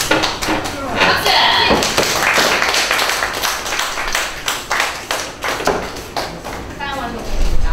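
Scattered applause from a classroom of students, many hands clapping unevenly for several seconds in a room, with voices chattering under and around the claps.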